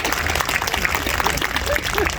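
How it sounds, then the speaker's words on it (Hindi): An audience claps through a spiritual talk session, a dense, steady wash of many hands close to the microphone with no pauses. "अभी देखो ताली बजी"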